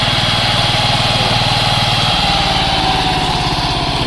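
A tractor engine runs close by and loud while the tractor is parked, a steady rhythmic thumping idle that continues without a break.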